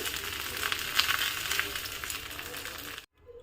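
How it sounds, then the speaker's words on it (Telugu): Fish frying on a banana leaf in a pan, the second side cooking: a dense, close hiss of sizzling oil that continues steadily before cutting off abruptly near the end, then a quieter sizzle resumes. "ఇప్పుడు రెండో వైపు కూడా సేమ్ ఇదే విధంగా వేయించాలి"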